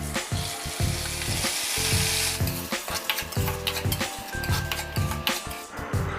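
Cooked rice frying with cumin in hot oil in a kadai sizzles loudly, with repeated scraping and clinking of a spoon stirring the pan close up and no voices.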